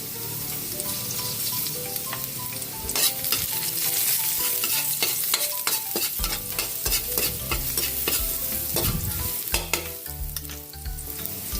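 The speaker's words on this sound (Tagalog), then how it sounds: "Lagyan natin ng mantika. Kunti lang. Sabay na natin yung ating bawang," Garlic sautéing in a little oil in a pan for ginisang munggo, a steady close sizzle with frequent scraping and clinking stirring strokes throughout, no talk.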